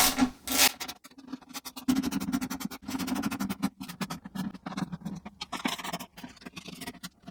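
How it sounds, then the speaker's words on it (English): Bolts are tightened on a Touratech toolbox mount fitted to a KTM 1290 Super Adventure S motorcycle, heard as a rapid, rhythmic ratcheting click that runs in bursts for several seconds, close and fairly loud. "So let's tighten the bolts."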